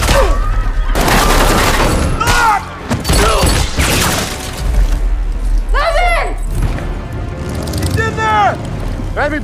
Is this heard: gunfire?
yes